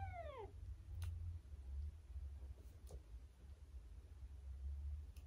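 A cat gives one short, falling meow at the start while being handled, followed by faint soft rustles over a quiet low background hum.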